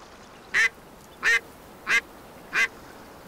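Four evenly spaced duck quacks from the hunting video game Way of the Hunter, each short and clear, ringing out over quiet outdoor ambience with no talk.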